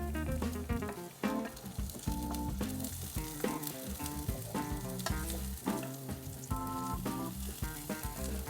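Garlic and onion sautéing in a pan for pork steak, a steady loud sizzle with scraping stir strokes and clinks throughout, no talking.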